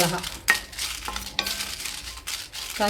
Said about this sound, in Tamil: நம்ம தனியா போட்டு வறுத்துக்கிறோம்